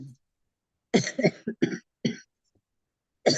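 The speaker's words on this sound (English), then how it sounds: "And you're also having the cough." A group of people coughing indoors during a scripture study class: several close, harsh coughs in quick bursts, then a pause and another cough, with no speech.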